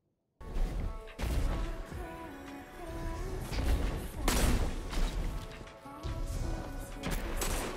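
Video game firefight with a grenade explosion and bursts of gunfire, loud booms and rapid shots in clustered volleys with brief pauses between them.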